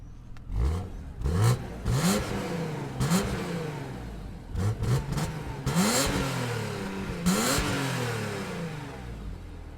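A BMW M3 engine revs repeatedly in short throttle blips, each rising whine dropping back to a rough idle, loud and nearby.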